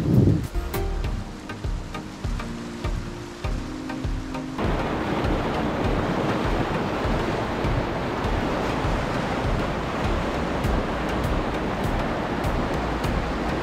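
Fast-flowing river water in Kumrat Valley, Pakistan, roars in a dense, continuous rush, loud and close, taking over fully after a few seconds of quieter, mixed sound at the start.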